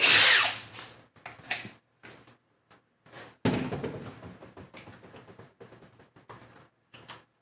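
Cordless impact driver, DeWalt XR against Milwaukee Fuel, driving into a nut: a loud burst at the start, then a long series of sharp rapid hammering clatters that gradually fade.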